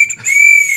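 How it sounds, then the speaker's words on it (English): A shrill, loud whistle blast sounds close by, a single sustained pure tone after a brief breathy start. "so if you're looking to blow a whistle a lot, this could work for that"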